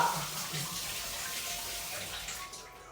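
Tap water runs steadily into a kitchen sink while raw chicken is washed, a close splashing rush that fades slightly toward the end.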